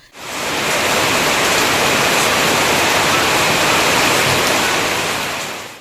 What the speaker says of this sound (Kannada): ಸಂಜೆ ವೇಳೆಯಲ್ಲಿ ಸುರಿದ ಭಾರೀ ಮಳೆಯಿಂದ ನಗರದ ಪ್ರಮುಖ ರಸ್ತೆಗಳಲ್ಲಿ ನೀರು ನಿಂತ ಪರಿಣಾಮ